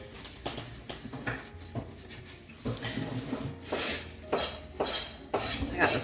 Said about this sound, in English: Butter and saute